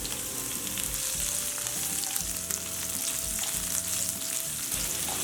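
Cumin, garlic, dry red chillies and curry leaves frying in hot oil for a North Karnataka chutney powder, a steady close sizzle with faint stirring throughout and no voices.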